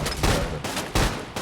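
A Colt Mk.40 L/45 automatic cannon fires in the game Fallout 4, producing three loud, booming bursts in quick succession, each a short rapid salvo of heavy shots with no talking.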